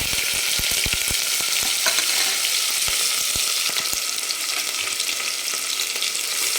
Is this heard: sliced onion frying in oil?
yes